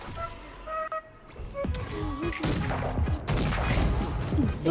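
Gunfire in the tactical shooter Valorant, heard as a dense run of sharp shots and impacts over game effects and background noise, fairly loud and continuous through the round.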